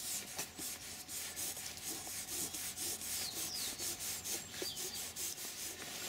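Brush scrubbing a Rolls-Royce leather seat, quiet rhythmic back-and-forth rubbing strokes repeated steadily up close, with no talking.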